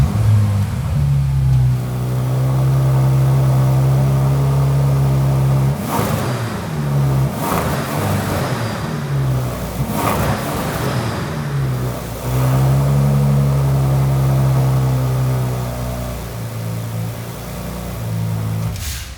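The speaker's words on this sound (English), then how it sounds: "you put your foot down on the brake, and then you press the ignition button" A 2020 Bentley Continental GT engine runs close by with a loud, steady idle rumble, broken by a couple of brief revs that swell and settle, and no one talking.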